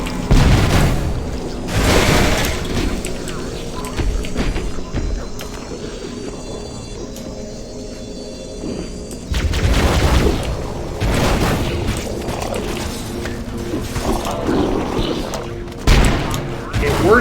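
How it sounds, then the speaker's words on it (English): Explosions and gunfire in a modded Halo game, with repeated loud booms and bursts of fire that chain together across the scene, a dense and continuous battle din with a few heavier blasts standing out. "All of the explosions, oh my god."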